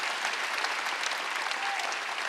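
Church congregation clapping during a Wednesday worship service, a steady dense wash of applause that holds evenly for the whole stretch with no voices on top.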